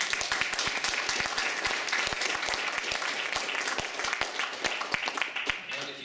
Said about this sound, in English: but most of that applause should be directed to Jarno.